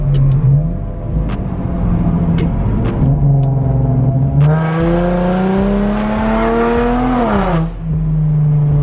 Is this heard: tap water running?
no